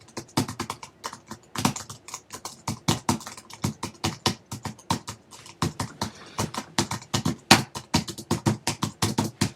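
Fast typing on a computer keyboard, a close, loud stream of sharp key clicks in uneven bursts with short pauses, heard alone without talk.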